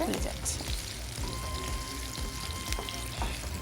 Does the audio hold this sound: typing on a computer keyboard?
no